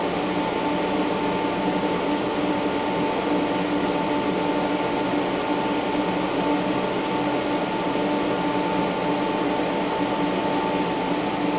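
A steady, even hum from an IPL hair removal machine sitting in ready mode, a constant mechanical drone with a faint tonal whine that holds unchanged and close throughout, with no talking.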